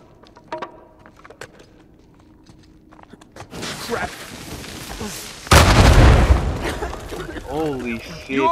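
A grenade blast in the video game Uncharted 4 erupts as a loud, broad boom midway through, following scattered gunfire and footsteps, with game voices talking around it.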